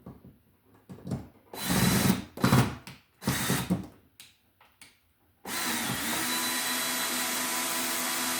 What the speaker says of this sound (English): we can screw it in with our screw gun